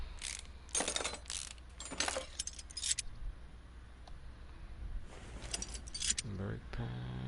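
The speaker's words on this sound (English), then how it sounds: "Take off this caliper." A brake caliper comes off in Car Mechanic Simulator 2018, with several short metallic clinks and rattles in separate bursts and someone speaking quietly between them.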